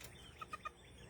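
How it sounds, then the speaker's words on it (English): Backyard chickens clucking on a garden morning; three short, bright clucks in quick succession, close by but quiet, with no talk. "look at these chickens"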